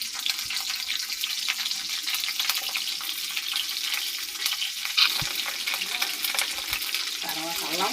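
Green chilies frying in hot oil, giving a steady broad sizzle throughout with occasional stirring scrapes and faint clinks, close and moderately loud.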